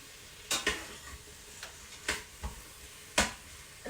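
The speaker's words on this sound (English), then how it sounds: "I'm gonna stir that in" Chopped onion, about half a large one, is stirred into an Instant Pot: a handful of separate scraping clatters from the utensil against the pot, spaced irregularly over a faint background.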